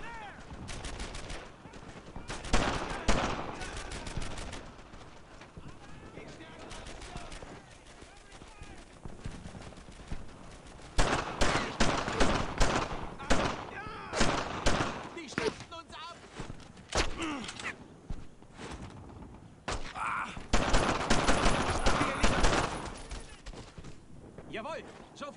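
Bursts of rapid gunfire crackle in the Earned in Blood war game, loud volleys alternating with quieter stretches as soldiers shout orders over the combat.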